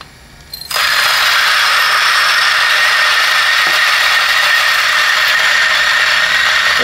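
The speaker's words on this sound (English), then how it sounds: "So grinder's running." A DF64V coffee grinder runs a hot start on grind setting 50, grinding coffee beans with a loud, steady whirring burr drone that begins abruptly and continues unbroken throughout.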